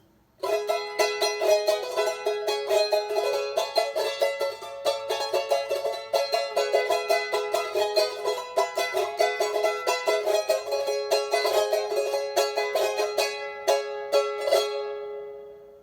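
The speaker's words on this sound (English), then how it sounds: "So this little baby is called huaylacho and sounds like this" A huaylacho, a small charango with a round sound box, is strummed alone in a bright, steady rhythm of rapid chords that runs unbroken for about fifteen seconds before stopping.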